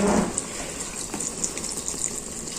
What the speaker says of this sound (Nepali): पानी हाल्दैछु ल अलिकति